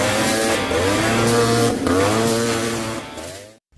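A Honda Odyssey FL250 off-road buggy engine fires up close by, revving with a raspy, buzzing roar that rises and falls before cutting off abruptly.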